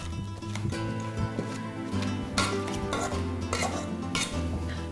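Edamame veggie burger mixture being mashed by hand in a bowl, with dense, steady squelching and scraping and occasional clinks of utensils against the dish, close and continuous throughout with no talking.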